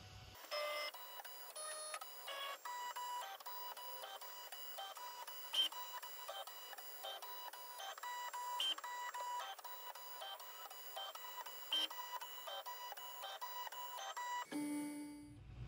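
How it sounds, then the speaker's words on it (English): Kywoo Tycoon Max linear-rail 3D printer auto leveling, with steady whirring stepper-motor tones and repeated short probing ticks and beeps, running continuously and fairly close, ending with a brief different motor sound. "let's auto level and we'll get this completely leveled before we"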